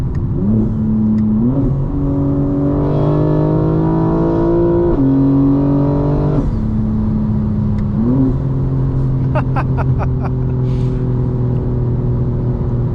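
A 2025 BMW M4 Competition engine revs up through the gears while driving, loud and close, with rising pitch sweeps, shift breaks and a brief crackle of exhaust pops near the end.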